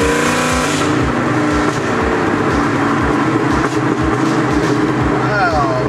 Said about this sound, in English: Oh man, I think him and the other truck are gonna race.